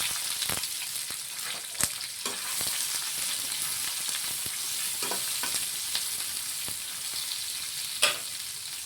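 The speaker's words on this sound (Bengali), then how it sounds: "এখানে আমরা দুটো বড় সাইজের পেঁয়াজ পিস করে কেটে নিয়েছি, সেগুলো আমরা ফোড়নে দিয়ে দিলাম" Two large onions cut into pieces fry in hot oil with whole tempering spices for a Bihari-style chicken curry. A steady, close sizzle and crackle runs throughout, broken by occasional sharp pops and spatula clicks, with no talking.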